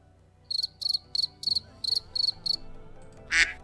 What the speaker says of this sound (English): Crickets have repopulated the earth.